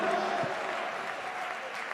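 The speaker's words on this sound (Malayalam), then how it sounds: "കൈയടിച്ച് സ്തോത്രം പറ." A church congregation claps together during a pastor's sermon, a short burst of rapid, massed hand claps heard at moderate distance, with a voice talking over it.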